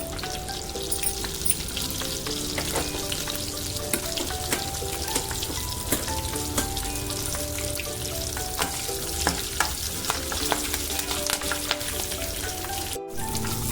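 Cumin seeds, three dried red chilies and curry leaves sizzle and crackle steadily in hot oil for a tempering, a dense, continuous frying hiss with scattered sharp pops, close and loud, with no talking.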